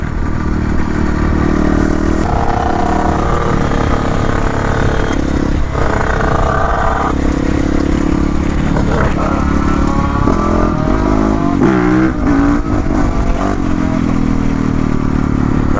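A Yamaha 450 YZF 60th supermotard motorcycle revs loud and close, its engine climbing and dropping in pitch as it pulls through the gears, with a steady roar throughout.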